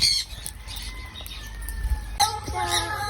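Birds flapping their wings while being released at a wildlife rescue center, soft fluttering bursts mixed with clucking and chirping calls nearby, with a sharper flurry near the end.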